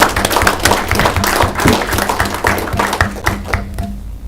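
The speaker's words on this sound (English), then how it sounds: "But I'd like to give you applause, both these young ladies." Small-group applause at a county board meeting for two young 4-H presenters, a close, uneven run of hand claps and taps from a modest room, thinning out and fading near the end.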